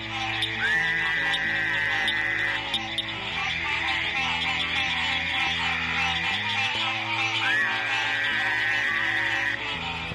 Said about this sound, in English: Frogs and toads have special pouches of skin which they fill with air and force over their vocal cords to give their calls extra resonance.